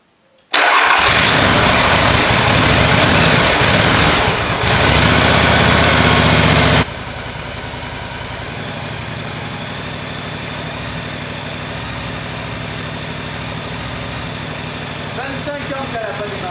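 A Yamaha TR1 motorcycle coaxed back to life after 25 years unused: a loud, sustained cranking and catching burst of several seconds gives way to a steady, rough idle, close by and with no one speaking.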